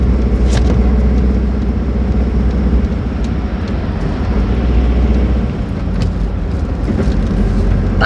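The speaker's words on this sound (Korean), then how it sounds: "이 차는 이렇게 가속은 좀 그렇고 이렇게 신나게 달릴 때" A car drives fast along the Gyeongbu Expressway in Korea, heard from inside as a steady loud roar of engine, tyres and wind that does not let up.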